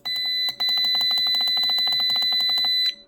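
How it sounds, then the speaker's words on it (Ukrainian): The buzzer of an electronic load tester, used for testing LiFePO4 batteries, beeps loudly in a rapid, continuous stuttering pattern with one brief pause, piercing and close. "Плюс такий зумер голосний, що прям вуха забиває."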